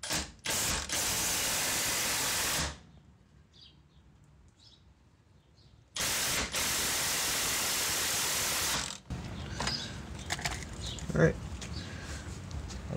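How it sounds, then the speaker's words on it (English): A ratchet turns on a control arm bolt of a Jeep Grand Cherokee in two long bursts of rapid clicking, close and loud, separated by a quiet pause. Fainter handling noises follow. "Let's go ahead and try to remove the first bolt."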